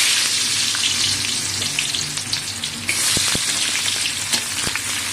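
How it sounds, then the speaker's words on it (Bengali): Onions frying in hot mustard oil in a wok, a loud continuous sizzle that flares up midway as more sizzle bursts in, with occasional stirring clicks. "তো পেঁয়াজ দিয়ে দিচ্ছি।"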